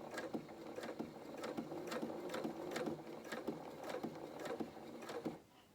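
A sewing machine stitching a seam on children's shorts or dungarees, a quick even run of mechanical clatters at close range, stopping abruptly near the end.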